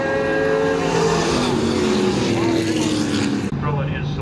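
Late model race cars roar around a corner at a motorsports track, a loud sustained engine drone with rising and falling pitch as they pass, under a commentator's voice, then cutting off abruptly.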